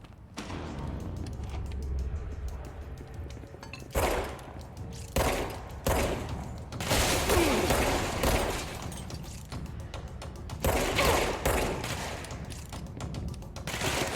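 Gunfire in the video game Control, aimed as headshots, comes as repeated loud bursts and shots over a steady game background, with several heavier blasts spaced through the stretch.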